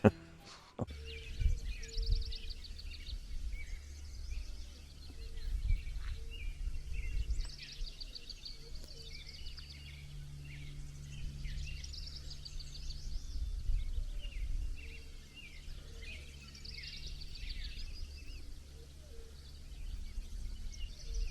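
Faint birdsong chirps and trills scattered through a steady outdoor background at a campsite near Devils Tower, Wyoming, with low rumbling noise underneath and no talking.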